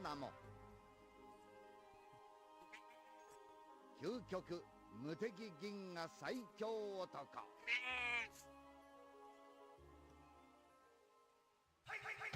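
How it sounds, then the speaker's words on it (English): A pet cat gives a run of meows with rising and falling pitch, close and fairly loud, with a longer wail near the middle, while a person talks nearby. "It's the purr cat."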